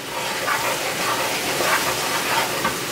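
Maple syrup hits a hot pan with a steady sizzling hiss, swelling in a few soft surges over the continuous crackle, close by with no voices.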